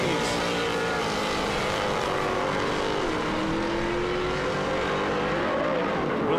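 Off-road race trucks at the Crandon AMSOIL Championship Off-Road event thunder through turn one, a loud, continuous engine roar with rising and falling pitch as several trucks run within a truck length of each other.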